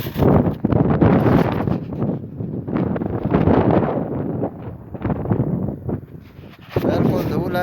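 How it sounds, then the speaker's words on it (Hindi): Strong, dusty wind gusting hard against the microphone outdoors, loud rumbling buffets rising and falling in waves, with a brief lull near the end before another gust. "तेज हवा चल रही है"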